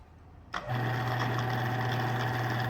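An electric grinder fitted with a replacement capacitor switches on and spins up, settling into a steady, close motor whine with a constant hum that holds to the end.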